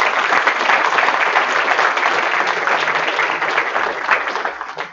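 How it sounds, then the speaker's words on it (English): An audience at a capstone game presentation, with many families and parents present, claps in sustained, dense applause, close and loud, easing slightly toward the end. "I want to give everybody that came a round of applause for coming and supporting us."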